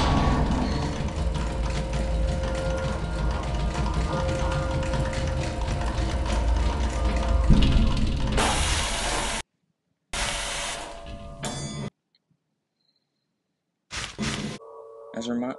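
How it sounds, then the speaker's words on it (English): The SCP-914 machine in SCP Containment Breach whirs and clanks with grinding gear and ratchet noise, a loud mechanical run that cuts out abruptly, followed by gaps of silence and a few short bursts. "I'm gonna turn on the machine and we're gonna see what happens."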